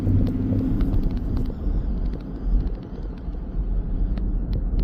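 A 2016 Ford Ranger 3.2 TDCi Wildtrak 4WD pickup with a six-speed manual climbs a hill at about 40 mph, its low, steady engine and road rumble droning continuously with some wind noise on the cabin microphone.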